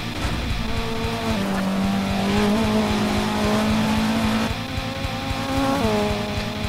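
A rally car engine in the Dirt 2 video game, on a China stage, holds a loud, steady drone at full throttle in fifth gear, with its pitch shifting up and down through gear changes.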